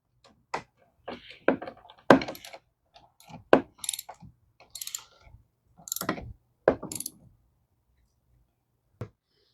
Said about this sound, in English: we are using a 7/16 socket set. Tighten that down. Tighten this one down.